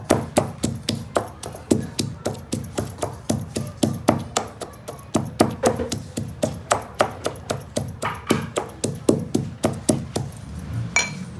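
Kothimbir vadi ingredients pounded by hand in a mortar, a steady run of sharp, close, evenly spaced thuds repeating for the whole stretch with slight variation in force.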